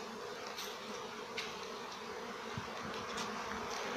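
Bees hum in a dense, steady drone around an apiary where honey frames are set out to dry in autumn, with occasional louder passes close by and no talk.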